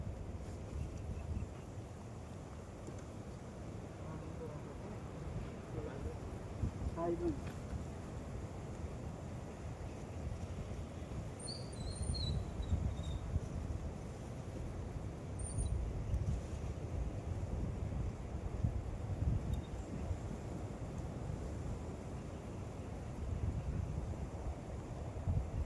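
Wind blows through a deep forest at a night campsite, a continuous low rumbling buffet with steady gusts, and a few faint chirps rise briefly above it.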